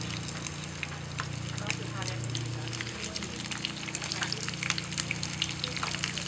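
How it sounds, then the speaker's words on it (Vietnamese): Sun-dried rat meat frying crisp in hot oil, a steady close sizzle and crackle running throughout while people talk over it. "Chiên hết đi thôi cho ông Thảo nè."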